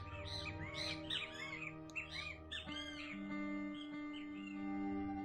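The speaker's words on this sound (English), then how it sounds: "Birds are chirping." Several birds chirp, squawk and call close by in the early morning, with bright overlapping tweets and a steady harmonic drone beneath them.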